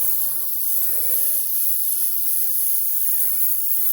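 A steady, close airy hiss of a spray gun spraying intense yellow candy-color paint, constant throughout with no pauses or talking.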